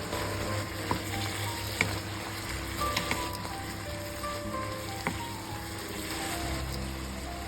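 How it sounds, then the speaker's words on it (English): Mushrooms and chopped leeks sizzle steadily in hot oil in a pan, a continuous crackling fry with occasional faint clinks and stirring, no voices. "we heat oil again in another pan and we cook the mushrooms. Add in some chopped leeks"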